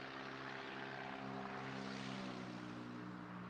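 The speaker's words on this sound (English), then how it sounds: "someone needs to have their muffler fixed." A passing vehicle with a loud, faulty muffler gives a steady droning rumble with strong low harmonics, holding evenly for a few seconds with no talk over it.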